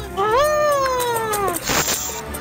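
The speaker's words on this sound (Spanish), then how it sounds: "no te le acerques que un, un gato guardián muy bravo" An angry guard cat lets out a loud, close, drawn-out meow with a rising then falling wail, followed by a brief hiss-like rasp.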